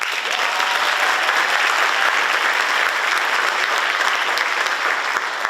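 An audience at a 2024 senior awards ceremony applauds a group of seniors with sustained, steady clapping that fills the room throughout.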